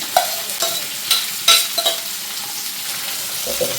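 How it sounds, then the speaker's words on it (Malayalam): Onions sizzle as they fry in oil for a clam meat roast, with several scraping stirs of a spoon through the pan over a steady crackling hiss. "നല്ലപോലെ ഇളക്കി കൊടുക്കാം എല്ലാം കൂടെ ഒന്ന് ഇളക്കി"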